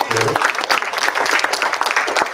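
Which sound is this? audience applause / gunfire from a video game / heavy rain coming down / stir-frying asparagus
audience applause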